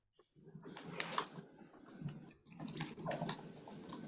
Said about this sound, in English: I'll just take a drink of water.